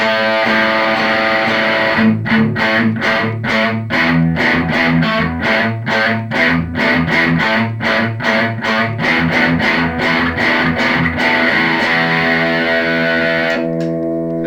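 Heavily distorted electric guitar chugs in rapid, rhythmic palm-muted strums, loud and continuous, with a ringing chord left hanging at the end.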